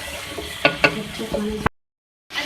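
Potatoes and cauliflower for village-style aloo gobi fry in a pan, with a steady sizzle, a few sharp stirring clatters, and a short cut to silence before the frying returns.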